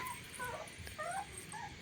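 A rescued street dog whimpers in thin, high, wavering whines, several short cries in a row at close range against a quiet room.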